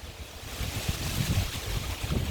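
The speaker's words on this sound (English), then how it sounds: "it's a little windy today" Steady wind blows across the microphone on a windy midsummer day in a garden, a continuous rushing roar with low buffeting gusts.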